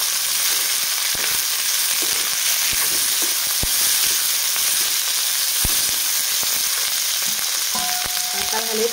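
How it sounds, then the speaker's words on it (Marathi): Chopped capsicum frying with garlic in a pan for a spicy Marathi bell pepper dish, a loud, dense, continuous sizzle with scattered clicks of stirring, close up and with no talk. "आता आपण ह्याच्यात घालूया ढोबळी मिरची कट करून ठेवलेली आणि छान परतून घेऊया"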